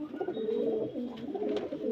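Pigeons kept for sale coo in a low, continuous rolling murmur, several birds close by and fairly loud, with no talk over them.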